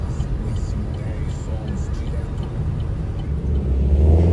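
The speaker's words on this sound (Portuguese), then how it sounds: "Vamos colocar de lado o carro aqui." A 2015 Chevrolet Camaro with a ZL1 body kit idles and then revs at a car meet entrance in the rain, a low engine rumble swelling louder toward the end, with someone talking over it.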